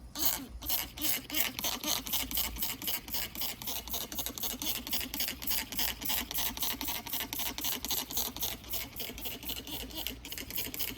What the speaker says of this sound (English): I'm gonna go ahead and spray this one so you can see what it looks like.